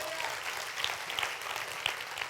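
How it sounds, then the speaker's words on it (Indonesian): A church audience claps at a sermon, a soft, steady wash of applause heard from some distance, with a few sharper claps standing out above the blur. "Berikan tepuk tangan yuk"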